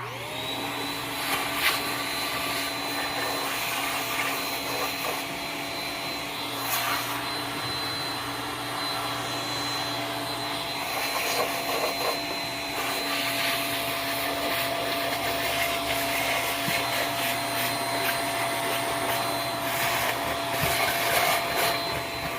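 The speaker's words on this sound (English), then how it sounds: "most people have a shop vac. I've got a Walmart brand" A Walmart-brand Rocket shop vac runs while cleaning around a 350 Chevy engine in a 1999 Tahoe during a head gasket job, a loud continuous motor whine with shifting suction roars and occasional rattles.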